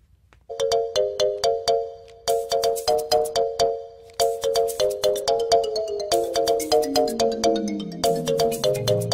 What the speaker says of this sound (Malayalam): നിന്റെ ഫോൺ ബെല്ലടിച്ചു